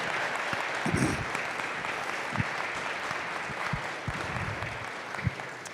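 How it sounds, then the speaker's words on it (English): Audience applause for veterans at a Veterans Day event, a steady wash of clapping from a crowd sustained for several seconds with a few louder claps standing out. "Can we give all the vets here one last round of applause"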